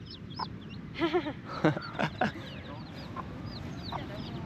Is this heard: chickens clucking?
yes